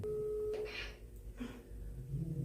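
A phone call's ringing tone plays at a steady pitch, followed by short bursts of tone and background noise while waiting for the other person to answer.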